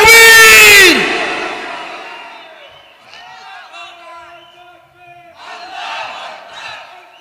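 A large crowd roars Allahu Akbar in answer to a Nara-e-Takbir call at a religious gathering, a loud surging collective shout that fades into softer, distant voices and a second swell of chanting.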